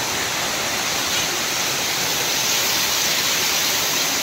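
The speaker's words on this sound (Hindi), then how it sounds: "ये देखिए वाटरफॉल का शानदार नज़ारा" Damera waterfall in Jashpur pours down in a loud, steady, broadband roar of rushing water heard from nearby, unbroken throughout.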